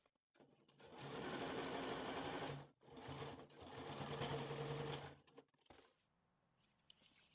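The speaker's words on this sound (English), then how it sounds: "lift the presser foot, turn and sew all the way up" A sewing machine stitches a doll's wrap skirt in two steady, whirring runs, separated by a brief pause to turn the fabric, followed by a few soft clicks and handling sounds.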